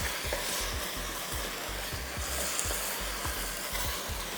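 Juicy tomato chunks are stirred into a dhaba-style chicken curry, a spoon scraping and sloshing in a regular rhythm over a soft, constant sizzle, close by with no talking.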